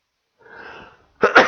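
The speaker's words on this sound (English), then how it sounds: "I just sneezed in your face." A person sneezes once, sharp and close, after a brief faint breathy intake, in an otherwise quiet indoor setting with no talk.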